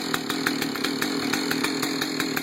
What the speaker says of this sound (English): Idle drops down, chain brake goes on, and I allow the saw to warm up